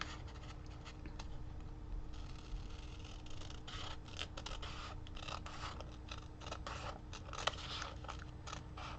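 Scissors trim paper for a journal page with dense, continuous close rustling and snipping, quiet and steady throughout with no talk.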